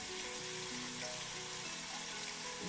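Tomato paste frying in a pot for Bahamian peas and rice, a steady, dense sizzle heard up close with no talk.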